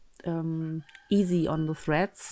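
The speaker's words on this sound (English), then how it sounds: "I'm not sure if you can hear my rooster in the background." A rooster crows in the background outside an open window, its drawn-out calls cutting in between and over a woman's nearby speech.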